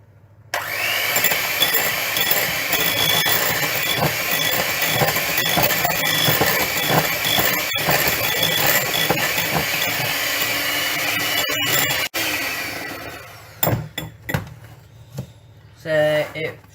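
An electric mixer whisks ingredients in a home kitchen, giving a loud steady motor whir that runs for about twelve seconds before cutting off, followed by clatter and handling sounds.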